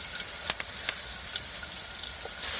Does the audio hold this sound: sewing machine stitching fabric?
no